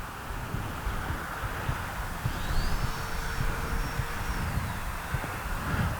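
Arrows RC F-86 Sabre 64mm electric ducted-fan jet model flying past outdoors, a steady whooshing fan whine rising and holding in pitch, then fading, over constant wind noise on the microphone.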